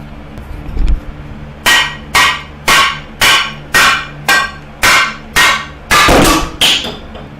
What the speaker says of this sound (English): I could strike this with a hammer for quite a while until it breaks